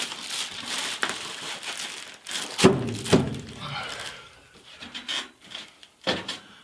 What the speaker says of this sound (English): I'm dragging that bubble wrap with me as I do this